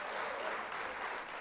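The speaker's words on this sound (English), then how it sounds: "We got to hit some applause here." Canned applause effect triggered from a Stream Deck during a livestreamed LEGO building workshop, a short, steady burst of crowd clapping at low volume.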